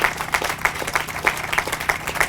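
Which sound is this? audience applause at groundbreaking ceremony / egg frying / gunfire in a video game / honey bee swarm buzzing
audience applause at groundbreaking ceremony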